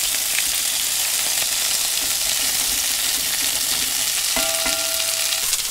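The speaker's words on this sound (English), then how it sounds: "While this sizzling away" Sausages sizzle loudly in a hot pan, a constant hissing crackle with a brief clink of a utensil near the end.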